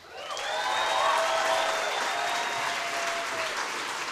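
Audience applause at a Tax Amazon campaign rally in the city fills the space, swelling quickly and holding as a steady, dense clapping from a large crowd.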